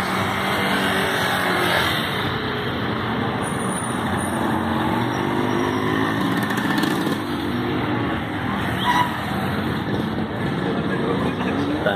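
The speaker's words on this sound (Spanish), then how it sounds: "estamos en Siloé, y motos por todos los lados" Motorcycles moving through the streets of Siloé in Cali, a continuous mix of engine drone and passing traffic, steady and fairly close, with a few louder swells, and no clear talk over it.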